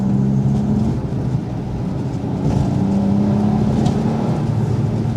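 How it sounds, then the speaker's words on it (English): A first-generation Smart car's small turbocharged engine runs steadily, a throaty low drone with faint tonal whine from the turbo rising and settling, continuous and close with no talk. "They sound quite throaty, and you can quite often hear the turbos spooling up."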